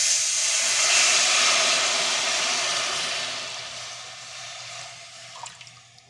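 Tomato puree cooking with butter and flour in a pan for tomato soup, a steady broadband hiss and steamy simmer that slowly fades, with a couple of small clinks near the end and no talking.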